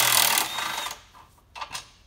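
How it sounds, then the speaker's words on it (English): A power drill whirs for about a second, close by, removing a trailer hitch bolt, then a couple of brief, quieter bursts follow. "that one we're going to use the drill on"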